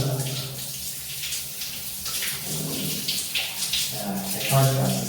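A steamy warm shower runs in a continuous, dense hiss of spraying water that patters loudly and evenly throughout, with a voice faintly present underneath.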